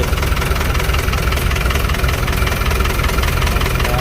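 An Isuzu KS 110 truck engine running steadily at idle, a close, loud, even diesel rumble with a faint knocking rhythm and no breaks.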